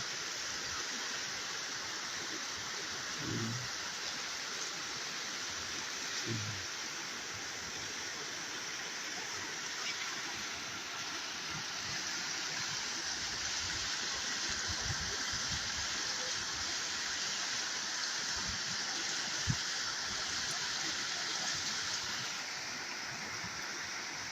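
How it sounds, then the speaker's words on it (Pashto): Heavy floodwater rushes through a stream after rain, a steady, dense roar of flowing water that continues unbroken throughout. "دا هم ډېرې درنې اوبه روانې دي"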